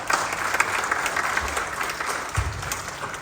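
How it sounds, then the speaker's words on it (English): Audience applause, a thick continuous crowd clapping at close range, loud and even for the whole stretch with a couple of low thumps underneath. "So let's give them a round of applause."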